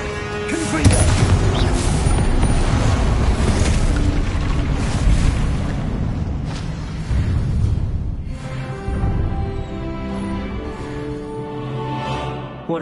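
Hogwarts Legacy spell combat with a Confringo blast: a dense, continuous roar of booming explosions and crashing impacts, loud and sustained, with a voice speaking over the game sound.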